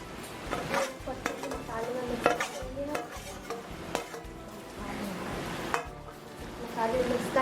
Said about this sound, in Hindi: चलाते रहेंगे जिससे मसाला अच्छे से मिल जाए।